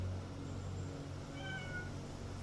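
A cat meows in a video game, a faint brief mew heard over a loud, steady background hum, with no talking.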